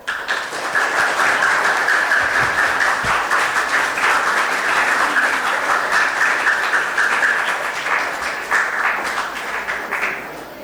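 A large audience at a school workshop in Chennai claps steadily in a loud, dense round of applause welcoming Dr. R. Joseph, sustained for about ten seconds before easing off slightly at the end.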